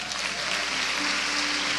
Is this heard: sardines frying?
no